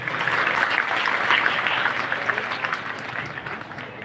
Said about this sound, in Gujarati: તાળીઓના જોરદાર ગડગડાટથી વધાવેલી છે